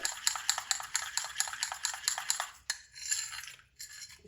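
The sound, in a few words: mixing lemon juice into homemade face pack with spoon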